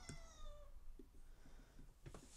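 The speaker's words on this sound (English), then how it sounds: "That's my cat." A house cat in a Sims 4 game session gives a single clear meow near the start, followed by faint, low background game sounds and a brief soft chirp near the end.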